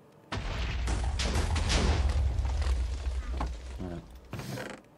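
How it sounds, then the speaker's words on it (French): A Minecraft explosion erupts as a sudden loud boom, followed by a long rumbling roar that fades over several seconds. "Normalement, j'entends une explosion"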